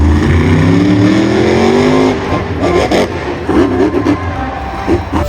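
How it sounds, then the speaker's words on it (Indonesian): A toy monster truck's motor sounds as a loud, steady engine-like whir that holds evenly, then turns rougher and choppier in the second half, with no talking over it. "Ini ada mobil monster."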